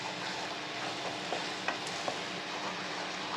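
Wheat flour halwa is stirred in a pan just after melted sugar is poured in, giving a continuous soft frying hiss with a few light scrapes and taps of the spoon.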